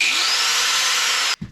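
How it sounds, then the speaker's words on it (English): An angle grinder runs on a Bluetti AC200P power station with a loud, steady high-pitched hiss, then cuts off abruptly, leaving a brief low thump. "Angle grinder."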